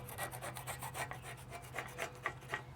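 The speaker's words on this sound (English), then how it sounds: "use a scraper / brush, in this case a wire brush, stiff wire brush, and scrape off all the old and loose paint" Stiff wire brush scraping old, loose paint off a metal patio chair, rapid back-and-forth rasping strokes in a steady rhythm, loud and close, over a low hum with no speech.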